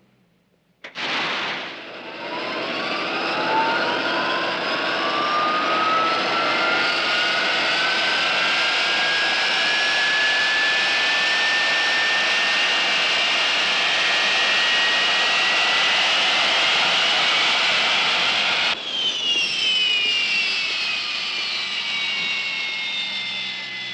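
A jet aircraft engine spools up from silence into a loud, steady rising whine and roar that holds, then shifts pitch near the end.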